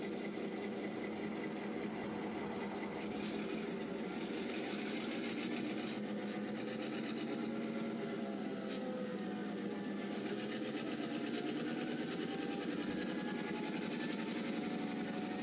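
A Kato sound box plays an N scale locomotive's engine sound as the throttle is turned up, a continuous, even rumbling drone that stays close and steady throughout.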